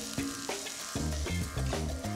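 Garlic and peppers fry in a hot pan, a crackling sizzle under a run of sharp knocks and clatters from stirring, loud and close with no speech.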